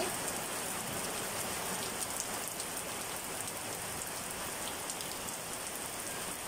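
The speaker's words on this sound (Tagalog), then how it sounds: "lakas ng ulan" Heavy rain pours steadily in a backyard garden, a dense, even hiss of drops on surfaces with no pauses, moderately faint and without voices.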